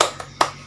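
Children at a Sunday school service clap their hands in a brief rhythm, two or three sharp claps following a louder opening clap.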